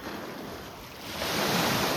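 Waves wash against the shore of a lake in Canada, stirred by a passing boat, a steady rushing surge that swells louder midway, with wind buffeting the microphone.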